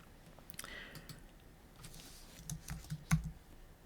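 Soft keyboard typing, scattered light clicks and taps at close range in a quiet room, with one sharper key strike near the end.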